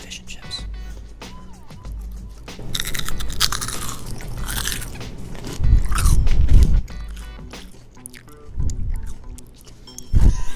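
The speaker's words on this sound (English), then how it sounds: "Crispy crust, fish and chips." Crispy crust of homemade fish and chips bitten and chewed right against the microphone, loud wet crunches and mouth noises repeating in uneven bursts, with occasional low thumps between bites.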